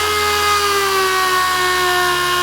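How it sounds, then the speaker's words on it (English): A dual-action sander fitted with 320-grit paper works over a powder-coated tumbler, giving a steady close, even whine and hum that runs without a break for the whole stretch. "I'll just start sanding it until that logo is gone."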